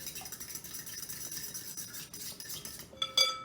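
A utensil stirs eggs and oil together in a bowl, soft continuous scraping and tapping, ending in a couple of sharper clinks against the bowl.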